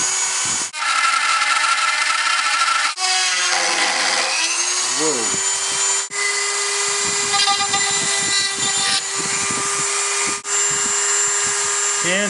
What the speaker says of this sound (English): Okay, so I marked it where I'm going to Dremel.